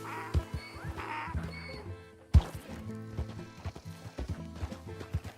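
Horse hooves clip-clop in Red Dead Redemption 2 as a rider urges the mount on, with a rhythmic, moderately quiet trot and a sharp thud midway, under faint background game sounds.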